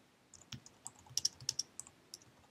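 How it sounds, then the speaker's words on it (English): Light keyboard typing, a quick run of soft clicks with a few sharper key taps, close by over a quiet room. "I can start typing and hit Enter"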